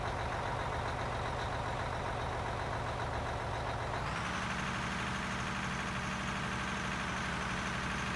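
A bulldozer idles in the Out of Ore game, giving a steady, close engine rumble and drone throughout that shifts to a slightly different, fuller tone about halfway through, with no talking.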